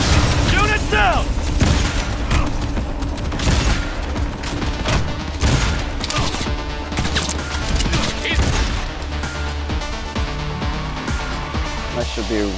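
Rapid gunfire and booming blasts from the video game Cyberpunk 2077 fill a dense, continuous firefight, loud and chaotic, with a voice talking over the action.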